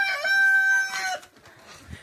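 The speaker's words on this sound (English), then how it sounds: "there's some of the chickens that we raised out of ours this last summer in there as well" Backyard homestead chickens in a coop, including young birds raised that summer and older hens, give a loud drawn-out crow with clucking for about a second, then fade to quieter scratchy coop noise.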